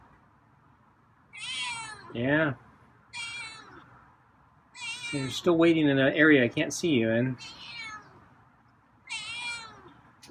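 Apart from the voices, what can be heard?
feral cat meowing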